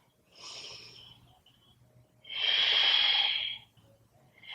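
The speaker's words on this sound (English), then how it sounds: "One more deep breath." A deep yoga breath taken through the nose, a soft inhale followed by a longer, louder breathy exhale close to the microphone, then another breath begins.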